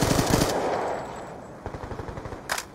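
Rapid bursts of submachine gun fire in Call of Duty Black Ops II during a 3v3 competitive match, a tight rattling volley at the start followed by a quicker spaced burst and a final sharp shot.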